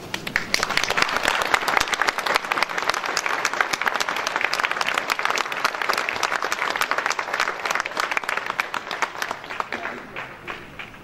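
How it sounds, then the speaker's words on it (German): Sustained, dense applause from a large crowd at a German Air Force military pledge ceremony in Neustadt an der Weinstraße, continuing steadily for about eleven seconds before tapering off. "dass sich der ausgestaute Applaus Bahn brechen kann"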